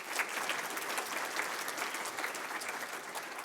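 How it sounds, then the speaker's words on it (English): An audience at a keynote talk claps steadily, a dense, even wash of applause from a crowd in a hall, moderately distant and without voices over it. "Thanks a lot. Big applause."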